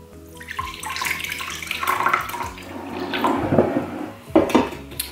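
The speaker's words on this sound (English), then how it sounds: "You're gonna mix a half a cup of cold water." Cold water is poured into a container for a gelatin mix, splashing and gurgling close by with changing pitch as it fills, plus a few light clinks.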